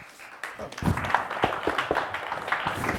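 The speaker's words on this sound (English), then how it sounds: "You can hear the applause, Nigel." Scattered audience clapping rises at a digital out-of-home advertising industry event, a modest, uneven patter of hands from a small crowd mixed with talking.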